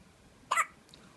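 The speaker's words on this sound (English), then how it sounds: "Oh, did you have the hiccups?" A newborn baby gives a single short, sharp hiccup, faint and close in a quiet room, followed by a softer trailing sound.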